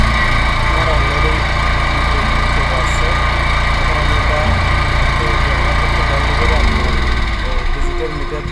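A Honda 9000 petrol generator engine runs at a steady, loud, close drone with constant vibration and no change in pace, heard alone without talk.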